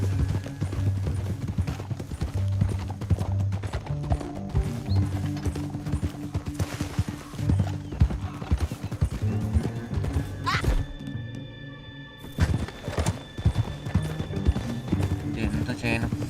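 Rapid hoofbeats of a galloping horse with a whinny in Red Dead Redemption 2, over game music and effects, with voices talking at times.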